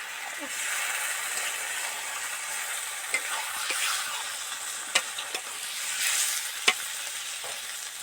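Pumpkin greens curry simmering in a pan after a splash of water, giving a steady close sizzle and hiss with a few sharp clicks of a utensil against the pan.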